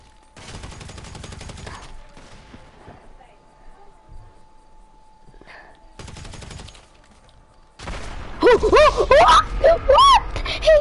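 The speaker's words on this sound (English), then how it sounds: "He shot me through the wall." Gunfire in a shooter video game, with bursts of rapid automatic shots early on, a few isolated shots in between, then loud excited talk over the game sounds near the end.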